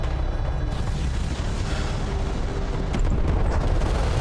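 Airstrike explosions in the desert strategy game Homeworld: Deserts of Kharak, a dense continuous low rumble of booming blasts that swells slightly louder toward the end, with no talk.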